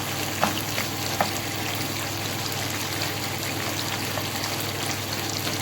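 Chicken karahi with softened tomatoes being fried down in a pan, giving a dense, even sizzle and bubbling hiss throughout, close up, with a couple of brief utensil knocks near the start and no speech.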